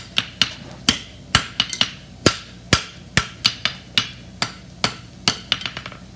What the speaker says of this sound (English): I'm going to drop the heel of my hammer and I'm going to just tighten that up in there